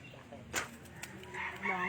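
A chicken clucks a few times nearby, with rustling and faint voices in the background.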